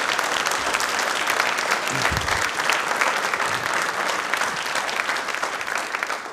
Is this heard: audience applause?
yes